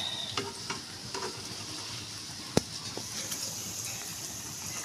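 Aloo chapli kababs shallow-frying in a pan over a slow flame, a soft continuous sizzle with a few light scrapes and one sharp clack of a utensil, no speech.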